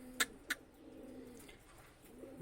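Soft, distant cooing from a pigeon of the Kane wali breed, faint and low, broken early by two sharp clicks before the gentle murmuring continues alone.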